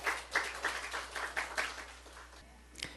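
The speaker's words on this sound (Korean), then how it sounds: "우리 하나님께 박수 올려드립니다" Worshippers at a Korean Sunday church service clap in a steady rhythmic beat for a couple of seconds before the clapping trails off into quiet.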